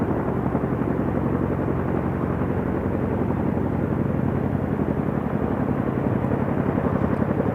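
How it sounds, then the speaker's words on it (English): Chinook helicopters hovering while lowering M777 155mm howitzers, a steady loud rotor drone with a continuous low throbbing beat, no voices. "you can see the Chinook helicopters lowering the M777 guns"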